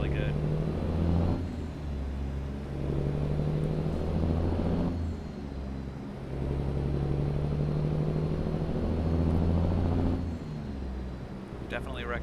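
A modded truck engine in American Truck Simulator rumbles deeply and steadily while driving, surging and easing between gear changes. A voice talks over part of it.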